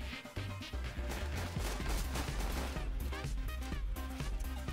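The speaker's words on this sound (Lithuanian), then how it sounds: "Pats šaudžiu pro langą." Gunfire from the Operation Hydra mode of a video game shooter: a dense, steady barrage of sharp shots and crashing impacts that fills the whole stretch, loud and close, with no gaps between bursts.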